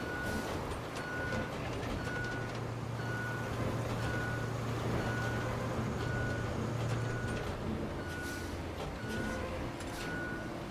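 Truck reversing in the RoadCraft game, a steady series of evenly spaced high reversing beeps over a continuous low engine rumble, with faint clatter in the background.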